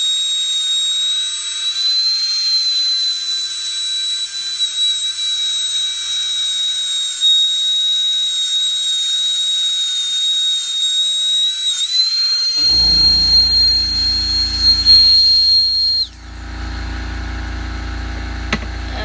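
Rotary tool spinning a sharp burr to carve a dolphin silhouette into a duck egg shell, a steady high-pitched whine close by that runs unbroken for about twelve seconds, then gives way to a lower, rougher noise.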